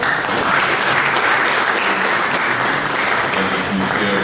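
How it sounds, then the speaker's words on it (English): A crowd applauds steadily at a memorial scholarship award ceremony, a dense wash of clapping that stays loud and even throughout. "Please, can you give him a round of applause?"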